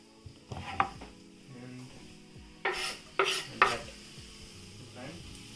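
Finely chopped garlic and instant Shin Ramyun noodles with vegetables stir-fried in a pan, a spatula scraping and clattering in several short bursts over a low sizzle, close up and without talk.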